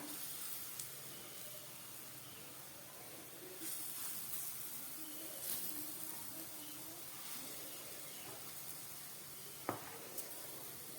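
Matar dal fritters (bada) fry in hot oil in a kadai over a low gas flame, giving a faint, steady sizzling hiss with occasional small pops and crackles.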